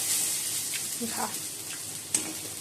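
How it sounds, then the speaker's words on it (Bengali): Potatoes fry in a pan with a steady hiss and sizzle, close and moderately loud, with occasional soft stirring scrapes and faint voices in the background. "আলু ভাজছি"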